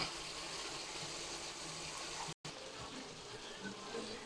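Tilapia frying in a pan gives off a steady, soft sizzle and crackle that holds at an even low level throughout, with one very brief dropout partway through.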